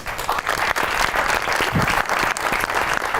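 A talk show studio audience breaks into sustained, dense applause, loud and steady throughout, with no voices over it.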